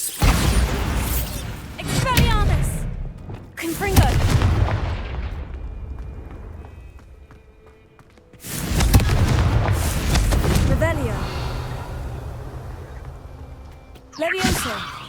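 Bombarda spell explosions go off in the Hogwarts Legacy video game, several loud, booming blasts in bursts separated by quieter gaps, with a voice speaking between them.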